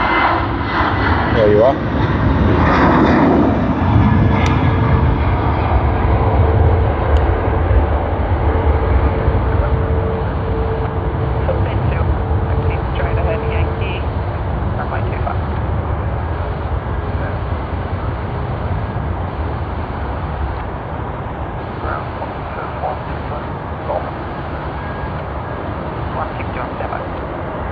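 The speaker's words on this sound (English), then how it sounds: "Let's capture the Sydney to Cairns service on the Boeing 737" A Boeing 737 on the Sydney to Cairns service takes off from Sydney Airport, a loud sustained jet engine roar that swells early and then slowly fades into the distance, while a voice speaks briefly over it.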